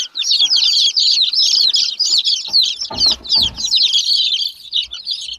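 A hen with her chicks: the chicks keep up a dense, continuous high peeping, broken by a few lower clucks and scuffling thumps close by. There is no clear speech.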